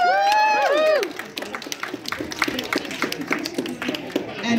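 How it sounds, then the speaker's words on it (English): At an Irish dance feis awards, an audience claps in a scattered crowd patter after a cheerful voice, with the applause continuing at moderate loudness. "Give you a big, huge round of applause."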